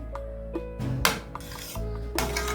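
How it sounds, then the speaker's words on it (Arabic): Rice being stirred in a cooking pot at home, with a utensil scraping and knocking against the metal in several separate strokes, close and fairly quiet. "تعالي كده نقلب الرز معاكم"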